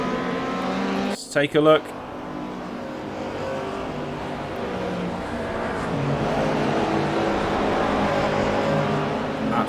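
Race cars lap the Spa circuit, with engines droning and rising as they pass in a steady stream. A commentator speaks briefly near the start, and the engine noise carries on throughout.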